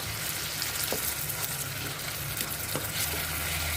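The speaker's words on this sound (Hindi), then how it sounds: "अब इससे फिर से ऑयल सेपरेट होने तक भूनेंगे हम ढक के" Masala with yogurt frying in a covered pan for Lahori chicken, a steady, close, bright sizzle with crackling and a few faint stirring clinks, no talk.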